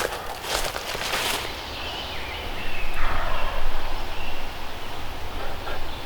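Wild turkey gobbling during a hot June public-land hunt in Michigan, a rough rattling gobble burst early, then a steady outdoor wash of rustling and distant bird activity at moderate distance.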